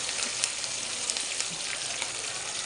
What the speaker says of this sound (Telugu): బాగా ఫ్రై చేసుకోండి మీరు కాకరకాయ కారం ఎలా చేస్తారో ఫ్రై చేసి